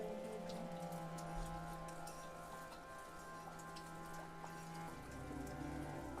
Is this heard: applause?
no